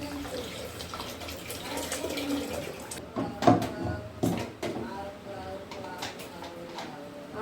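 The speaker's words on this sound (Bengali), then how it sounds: "এবার জল দিয়ে দিচ্ছি" Water running into a freshly washed pressure cooker while cooking, a steady splashing stream with a few louder bursts partway through, heard up close.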